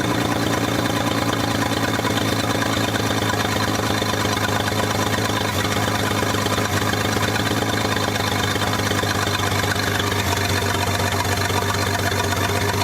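A rebuilt 1947 International KB3 truck engine idles steadily, giving a close, loud, even low rumble with a constant rhythmic pulse throughout and no talk.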